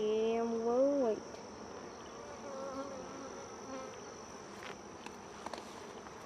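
Honeybees crowd a hive frame during an inspection, a continuous dense buzzing hum, louder at the start as individual bees pass close, with faint scattered handling clicks.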